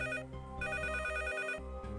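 A telephone rings with a bright electronic tone in two steady bursts and a short gap between them, clear and moderately loud, with no voices.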